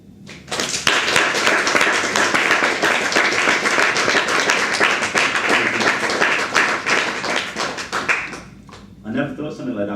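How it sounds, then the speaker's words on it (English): Audience applause at an Artsfest poetry performance in September 2011: dense, loud clapping from a crowd runs steadily for about eight seconds, then thins out as a voice begins speaking near the end. "I never thought something like that would ever get a round of applause"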